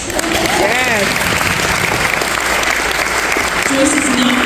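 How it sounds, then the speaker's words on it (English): Audience applause fills a book festival venue, a dense steady wash of clapping lasting throughout, with brief voices and cheers rising over it near the start and end. "you should also feel free to applaud"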